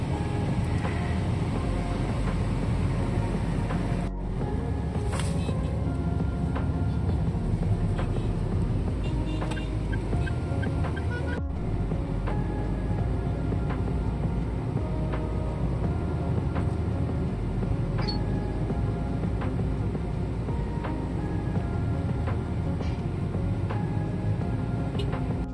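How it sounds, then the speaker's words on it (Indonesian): Car interior while driving through Jakarta streets: a steady low engine and road rumble fills the whole stretch, constant and close, with faint clicks and brief dropouts but no clear voices. "Nah, ini kita lagi di jalan, guys. Nah, ini lagi nyetir."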